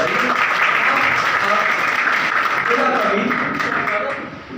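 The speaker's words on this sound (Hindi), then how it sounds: "एक बार इनके लिए जोरदार तालियां।" Sustained, loud applause from an audience at a mushaira and kavi sammelan poetry gathering, dense clapping holding steady for several seconds before easing slightly near the end.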